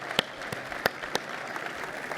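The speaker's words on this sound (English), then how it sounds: "I want to give a big round of applause to the Nathan Hale High School's vocal jazz group" Scattered applause for a high school vocal jazz group at a conservation voters' breakfast event, a modest crowd clapping in loose, uneven bursts at moderate distance with no talk over it.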